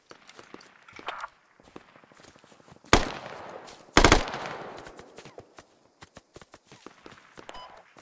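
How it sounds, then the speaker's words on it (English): Gunfire rings out in the Squad video game: scattered distant shots and footsteps, then two loud, close bursts in quick succession, followed by more sparse shots. "Man, who the fuck's shooting?"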